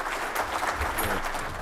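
A crowd at a public safety summit gives brief, fairly soft applause to the Attorney General and the King County Prosecuting Attorney, an even patter of clapping with no voices.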